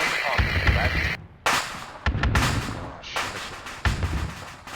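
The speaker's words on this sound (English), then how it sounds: "bajillion of grenades detonated" Grenades detonate in a World War II combat game set in Africa, a rapid series of loud, broadband blasts with brief gaps and rumbling low end, sounding close and dense, like a heavy volley going off.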